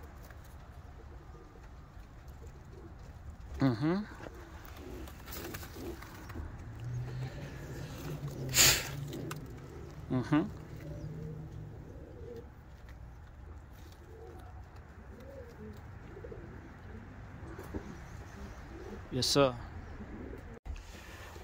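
Tippler pigeons coo softly in the background while a man occasionally murmurs brief replies, with faint traffic noise nearby.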